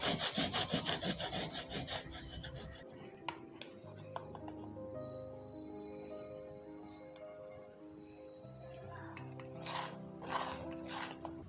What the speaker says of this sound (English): I'll just take my sandpaper and sand the whole surface and even sand these hooks, metal pieces